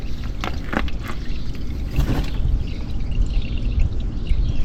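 Engine oil drains from the underside of a Subaru Crosstrek into a pan, a steady pouring trickle with a few brief splashy bursts early on, close and continuous under low background noise.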